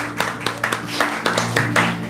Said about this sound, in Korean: 우리에게 승리를 주신 주님께 영광의 박수를 드립니다